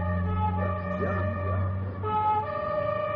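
An ambulance siren wails nearby, its tones rising and falling over a low steady engine-like hum.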